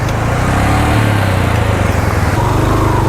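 Motorcycle engine idling while parked on a mountain track in Neelum Valley, a loud, steady low rumble with even pulsing throughout and no talk.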